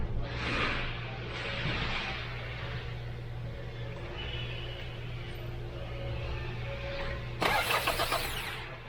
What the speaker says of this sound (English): let me try cranking it and see